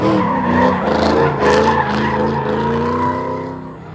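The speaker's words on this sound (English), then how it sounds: "watching drifting" Cars drifting at a drag-and-drive event, with a Camaro and a Corvette on track, their tires squealing and skidding in a loud, continuous wail beneath roaring engines, steady throughout.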